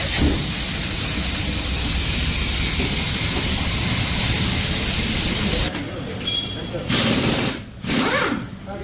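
A loud, continuous mechanical whirring and hiss from a tyre changer breaking a new tyre's bead runs for several seconds, then cuts out, leaving short bursts and quieter shop noise.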